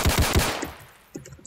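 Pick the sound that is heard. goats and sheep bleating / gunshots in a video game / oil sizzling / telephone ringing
gunshots in a video game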